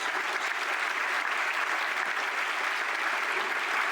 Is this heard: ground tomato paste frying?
no